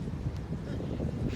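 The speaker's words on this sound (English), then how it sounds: "it's very windy" Strong gusting wind buffets the microphone in a near 40 mph gale at an RC flying field, a continuous low rumbling roar of wind noise with no voices.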